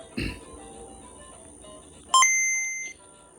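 A modified Game Boy console is switched on, giving a soft click followed about two seconds later by a short, clear, bright electronic chime that rings for under a second in a quiet room.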